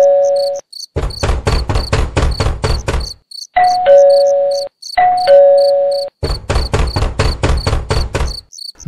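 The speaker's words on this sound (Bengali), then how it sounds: "দরজা বন্ধ অবস্থায় অনেকবার কলিং বেল টিপতেও দরজা যখন খুলল না" A doorbell is rung repeatedly at a closed door at night in a Bengali horror audio drama. Clear two-tone chimes alternate with rapid bursts of buzzing, knock-like pulses, loud and close with short silent gaps between rings.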